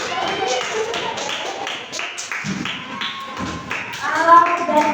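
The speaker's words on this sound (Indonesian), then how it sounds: "Tepuk tangan buat adik berani maju ke depan." Classroom applause for a child who came to the front, a run of sharp, uneven hand claps that is fairly loud and close and builds slightly toward the end.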